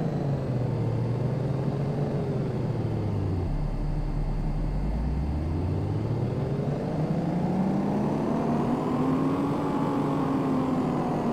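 A tuned 2017 Ford Mustang race track build in Car Mechanic Simulator runs on the dyno, its engine droning steadily, dipping then sweeping up in pitch as it revs, loud and alone.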